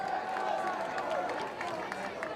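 A North Carolina crowd at a college men's soccer match against NC State, a steady wash of cheering and roar filling the stadium throughout, with a commentator talking over it.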